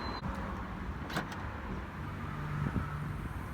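A VW Passat B7 2.0 DSG's electric window or door runs with a low motor hum and a couple of short mechanical clicks, close by and quiet.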